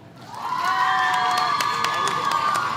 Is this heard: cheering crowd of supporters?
yes